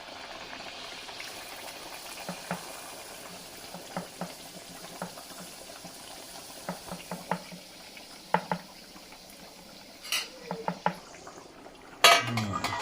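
Quiet frying sizzle of a cucumber vada in a kadhai runs underneath occasional clinks and scrapes of a utensil against the pan, ending with a louder clatter.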